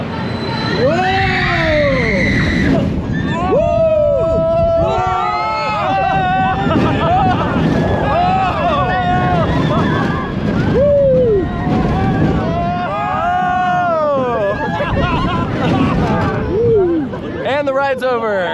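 Jet Star 2, a roller coaster at Lagoon, roars through its vertical LSM launch amid heavy wind rush, with riders screaming and whooping loudly throughout.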